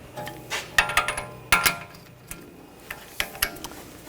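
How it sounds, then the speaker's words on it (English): A torque wrench tightening a front strut bolt on a Nissan Rogue, giving sharp metallic clicks and ratchet ticks in short irregular bursts, up close and fairly quiet. "Now we're going to torque this bolt to 66 foot-pounds."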